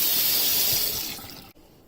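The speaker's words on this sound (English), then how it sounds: "So I have cleaned the other side as well with running water." Kitchen tap running hard over a crab being cleaned, a loud, hissing spray of water that gradually softens and cuts off abruptly near the end, leaving a quieter trickle.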